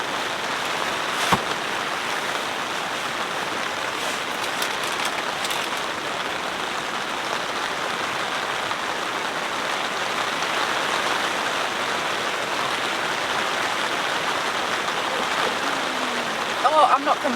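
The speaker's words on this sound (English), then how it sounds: "Oh, I'm not complaining that the rain is back." Heavy rain drums steadily on a big tent during an evening of car camping, a dense unbroken hiss at moderate loudness with a few sharper drop impacts and small knocks breaking through the wash.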